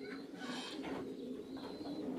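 A racing pigeon comes down at its home loft during a club race, with soft pigeon cooing and low bird calls heard faintly close by against a quiet outdoor background.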